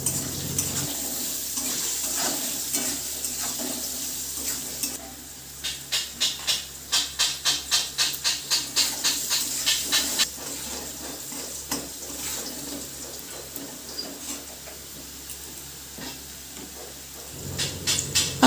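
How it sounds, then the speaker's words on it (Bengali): Potato pieces frying in a pan with turmeric and salt, a steady close sizzle with a stretch of rhythmic stirring scrapes in the middle, no talking. "এবার দিয়ে দেবো আলু। পরিমাণ মতন হলুদ, নুন দিয়ে ভালো করে লাল লাল করে ভেজে নেব।"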